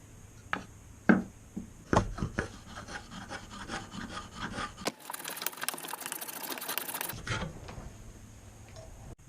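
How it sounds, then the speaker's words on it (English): A spokeshave scrapes across carved wooden spoon blanks in repeated rasping strokes, some sharp and close, followed by a sustained burst of dense shaving noise. "So the next thing to do is to shape them, and to do that I'm going to use a spokeshave"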